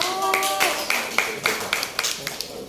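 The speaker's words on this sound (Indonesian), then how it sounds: "Beri tepuk tangan kelompok" Classroom audience claps for group 1 at a teaching practice session, a few seconds of lively clapping that thins into sparse, irregular hand claps, with a voice speaking over it.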